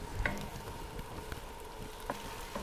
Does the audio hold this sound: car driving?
no